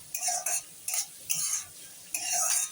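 Cabbage, green beans and spring onions stir-frying in a pan for a vegetable fried rice, with bursts of loud sizzling and tossing in several short strokes, close by.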